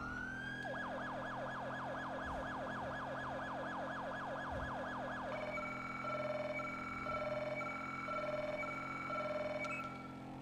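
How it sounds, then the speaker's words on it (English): A modern digital police siren from a GTA V LSPDFR patrol car wails in a fast, steady sweep, then changes to a choppier alternating two-tone pattern that runs loud and continuous to the end. "I do like the digital modern sirens that I added."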